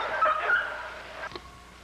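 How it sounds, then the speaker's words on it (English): A dog at a kennel yard lets out a short run of high whimpering yips up close, then goes quiet apart from one brief sharp sound. "This dog's a nice dog, very friendly dog."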